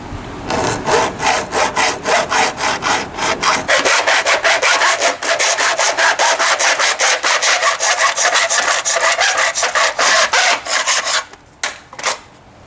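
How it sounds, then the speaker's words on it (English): A hacksaw cuts through a metal screen door frame anchored in concrete, fast rhythmic back-and-forth strokes, close and loud, speeding up midway and then stopping near the end. "We're gonna leave it where it's at and cut it with a hacksaw."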